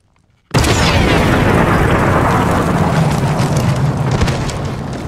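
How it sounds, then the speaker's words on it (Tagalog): After a moment of near silence, a bomb explodes beside a vehicle in a massive sudden blast, its deep rumbling roar sustained and slowly fading over several seconds. "Biglang sumabog ang isang bomba sa tabi nila at pinalipad sila."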